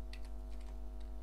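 Quick keystrokes on a computer keyboard, a short burst of several taps over a steady electrical hum, fairly quiet and close.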